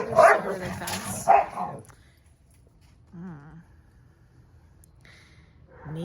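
Dogs barking excitedly at a puppy on the other side of a fence, a cluster of loud nearby barks followed by a fainter whimper, then another bark starting as the clip ends.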